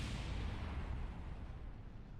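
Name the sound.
rocket explosion in the video game Kerbal Space Program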